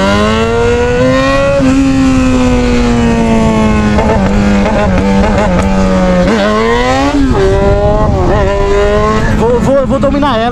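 Yamaha XJ6 motorcycle with a straight-pipe exhaust, loud and close, its engine note climbing and dipping through repeated acceleration pulls with harmonic howl for the whole stretch.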